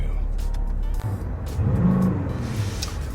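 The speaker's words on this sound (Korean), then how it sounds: "엔진 사운드가 굉장히 묵직해요" Diesel engine of a Maserati Levante SUV, heard from inside the cabin as a deep, heavy, steady rumble that swells briefly in the middle before settling back.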